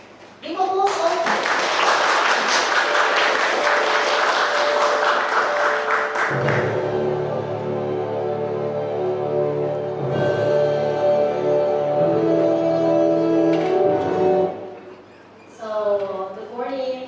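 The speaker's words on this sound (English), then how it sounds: "Give applause all." A seminar audience at a university law faculty gives loud, dense applause for several seconds, then someone speaks into a microphone.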